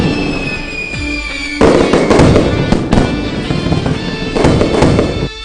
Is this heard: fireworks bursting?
yes